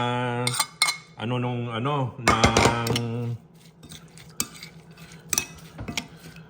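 Cutlery clinks and stirring sounds come from mixing Ilocano dinakdakan meat with seasonings in a bowl, with irregular scrapes and taps near at hand and a loud tonal musical stretch early on.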